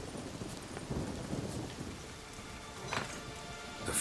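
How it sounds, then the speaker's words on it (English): Steady rain pours in a Witcher 3 thunderstorm, with low rumbles of thunder rolling underneath and a few brighter gusts and spatters standing out, continuous and fairly close. "it's a storm."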